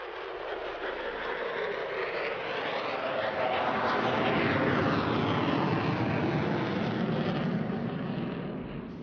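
An F-16 fighter jet roars past at high speed during an air show, a loud, sustained broadband jet rush that swells toward the middle of the pass and eases off, with no pauses.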